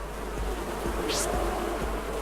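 Bees buzzing in the video game Zombie Bowl-O-Rama, a steady insect drone with soft rhythmic thumps beneath, heard alone without talk.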